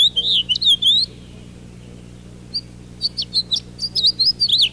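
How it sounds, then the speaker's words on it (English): A male house finch sings an excited warbling song from a telephone pole beside a street: loud, clear bursts of quick chirping phrases, then a pause, then more phrases close together. "soon we hear an excited warbling song coming from a telephone pole next to the street"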